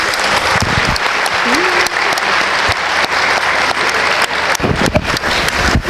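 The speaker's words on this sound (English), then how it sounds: "Everyone give him a hand." An audience at a Buddhist ceremony marking Lord Jigten Sumgon's 800th parinirvana claps in steady, dense applause lasting the whole stretch, loud and continuous.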